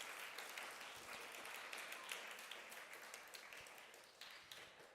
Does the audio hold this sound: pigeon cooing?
no